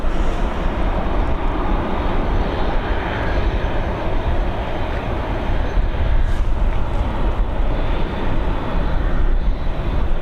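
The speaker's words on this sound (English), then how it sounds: "Be a really boring private jet." Private jet aircraft at Dublin Airport: a loud, continuous jet engine roar with a broad rushing rumble, holding steady throughout as if close by on or near the runway.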